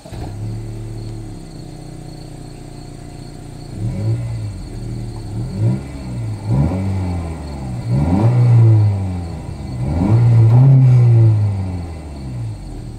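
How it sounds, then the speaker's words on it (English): A 2024 Honda Civic Hatchback with a 1.5-liter turbo engine idles with a low exhaust drone, then gets revved repeatedly in rising, swelling bursts that grow louder toward the end, heard close with no talking. "As always, here is that exhaust clip."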